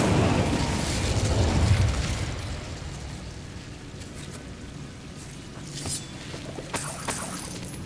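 A fire spell cast in Hogwarts Legacy gives a loud, rumbling burst of flame that swells over the first two seconds, then settles into a lower roar with further flares and crackles toward the end.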